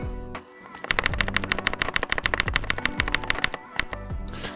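Rapid, crisp keyboard clacking on a mechanical keyboard with electrical tape mod, a steady burst of keystrokes with deep, thocky bottom-outs, close and loud, with a brief pause near the start.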